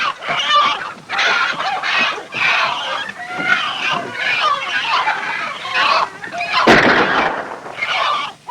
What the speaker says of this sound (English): The fox is in my hen house. Give me that gun.